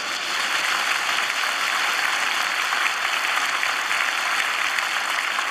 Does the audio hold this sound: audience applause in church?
yes